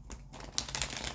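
Tarot cards are flicked through and shuffled by hand, giving a quick close run of soft papery snaps and riffling clicks over about a second.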